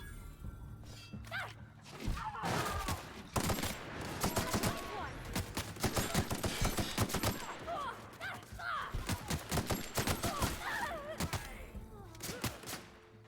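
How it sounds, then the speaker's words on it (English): Gunfire from the video game The Outer Worlds crackles in dense, rapid bursts at close range. Explosive thuds punctuate the shooting, and a voice talks over it. "Who's firing at me?"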